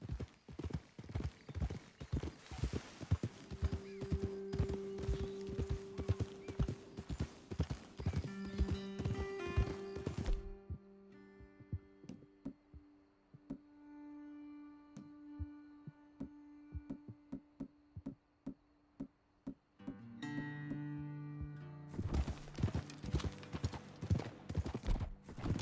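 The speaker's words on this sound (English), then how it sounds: "Okay, let's dismount here. Best leave the horses back a bit." Horse hooves clip-clop steadily in the video game Red Dead Redemption 2, loud at first, then a quieter stretch of droning ambience before the rhythmic hoofbeats return.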